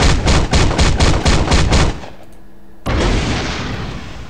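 Rapid automatic gunfire in a quick even rhythm from a Marvel Future Fight video game character, then a pause and a single loud gunshot that sets off a sustained booming explosion that slowly fades.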